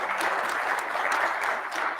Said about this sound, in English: Big hand clap for him.